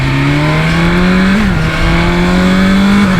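A BMW S1000 XR motorcycle pulls hard under acceleration, its engine note rising steadily with a quick, brief dip at an up-shift through the quick shifter, loud and close throughout.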